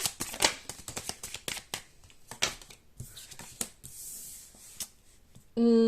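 Tarot cards are shuffled by hand up close in a run of quick crisp riffles and slides, pausing briefly before a last burst.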